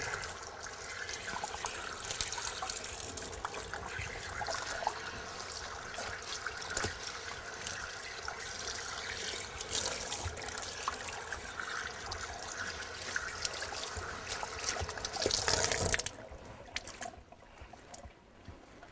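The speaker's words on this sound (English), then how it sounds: "The first step is to wet the hide down, because if you've got running water to do that" Running water from a tap pours over a rabbit hide to wet it down, a steady close trickle and splash that carries on for a long stretch and then briefly surges and stops near the end.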